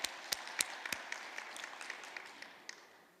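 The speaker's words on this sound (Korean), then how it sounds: "우리 하나님께 감사의 박수를 드리겠습니다." A church congregation at a Wednesday worship service claps in thanks, a few sharp early claps thinning into light, scattered applause that stays moderately quiet and fades toward the end, with no voices over it.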